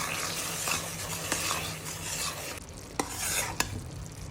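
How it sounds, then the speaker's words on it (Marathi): A spoon stirs half a kilo of chopped jaggery with a little water in a pan over low heat for sesame laddu, making a continuous scraping, bubbling sizzle with occasional sharp clicks of the spoon against the pan. "छान ढवळून घेऊया."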